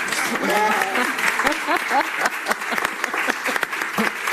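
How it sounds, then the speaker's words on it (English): An audience applauds loudly with dense, sustained clapping while a voice talks over the start, with a few cheers mixed in. "Another round of applause for Ebru and Bridget."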